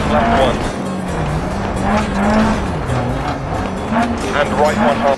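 A rally car races hard along a stage of the Greece Clubman Championship Rally, its engine revving up and down through gear changes in a loud, close drone, with a voice talking over it.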